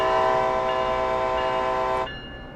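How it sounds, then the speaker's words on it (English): A locomotive horn sounds in the Train Sim World video game: one sustained, loud, multi-tone blast held steadily for about two seconds, then cut off abruptly, leaving a quieter background rumble. "Let's turn on the bell, and let's honk the horn."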